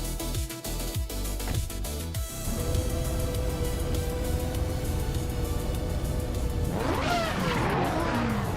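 Race cars roar off the line in a racing game, a 1990 Mercedes-Benz 560 on pole among them, engines revving loud and continuous with tire squeal rising toward the end.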